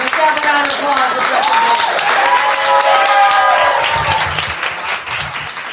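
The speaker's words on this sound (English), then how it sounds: "let's have a round of applause for" Audience applause at a film festival kick-off event, a dense sustained clapping from a crowd that carries steadily for several seconds, with a voice speaking over it.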